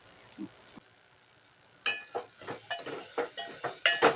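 Boiled spiny gourds tipped into a pan for a village-style curry, then stirred: a faint tap early on, then a run of close scraping and clattering stirring strokes with light sizzle, no talk.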